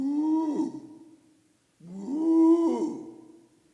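Two long, low moos come from voices imitating a cow, separated by a brief pause, with the second call louder and fuller.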